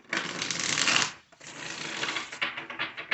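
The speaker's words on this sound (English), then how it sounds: "This will be our last shuffle" Tarot cards are shuffled up close in two brisk riffling runs separated by a short pause, ending with lighter flicks and taps.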